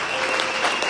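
A church congregation applauding to acclaim the Lord, a dense burst of clapping filling the whole short moment at an even, loud level.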